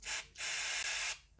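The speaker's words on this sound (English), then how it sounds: "So use this one, is the best. You gotta spray it from this side" Mass airflow sensor cleaner hisses from a spray can onto a Mini Cooper S sensor in two close bursts, a short one followed by a longer one, near and fairly clear.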